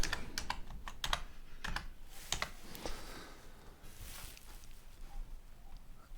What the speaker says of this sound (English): let's type in bass